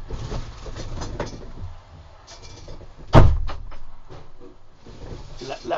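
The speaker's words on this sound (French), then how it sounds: "Excusez-moi, je vais fermer la porte" A door is pushed shut with a single sharp, heavy thud midway, standing out against a background of indistinct rumbling room noise and movement.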